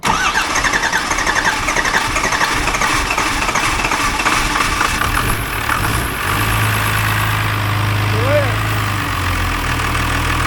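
A Cummins 12-valve 5.9 diesel engine in a Ford truck cranks with a rapid rhythmic churn, then catches and settles into a steady low idle, close and loud, with brief voices over it.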